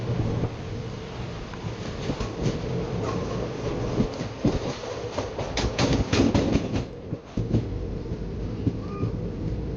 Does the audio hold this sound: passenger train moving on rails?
yes